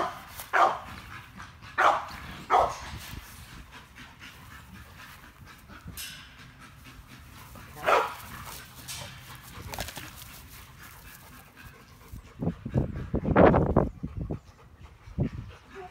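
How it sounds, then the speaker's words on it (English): Pit bull dogs at a kennel give several sharp barks in short bursts early on and again midway, with a louder cluster of barking and panting near the end over a steady background. "Good dog, dude."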